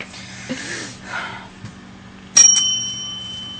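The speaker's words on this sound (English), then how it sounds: "I found the bell." A small bell rings once with a sharp strike, its clear tone ringing on and slowly fading, after some quiet breathing and rustling.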